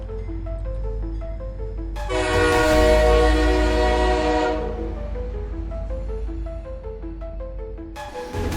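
A train pulls out of a railway station, its horn sounding loud and sustained in layered tones over a steady, heavy rumble of the rolling cars; no voices.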